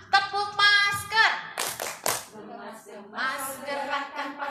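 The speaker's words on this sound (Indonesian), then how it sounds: "Tepuk masker." Group hand-clapping game called tepuk masker, played by PAUD teachers at a training session: a rhythmic burst of claps mixed with sung or chanted voices, loud and close, with voices carrying over the claps throughout.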